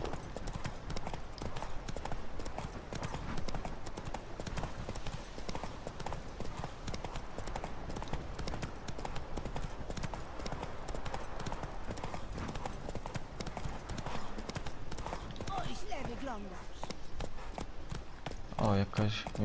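Horse hooves clip-clop steadily at a gallop in The Witcher 3, a continuous rhythmic drumming under ongoing game ambience.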